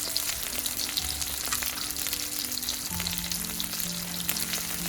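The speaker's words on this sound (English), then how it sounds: "So let's saute it now." Eggplant sautes in a hot pan with oil, giving a continuous crackling sizzle with occasional stirring scrapes, steady and close throughout with no talking.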